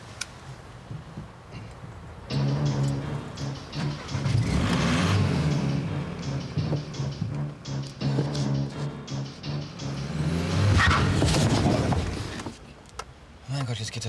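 A car pulls away in a German driving-lesson scene, its engine rising to a steady loud drone with gear-change dips, under continuous music and background noise.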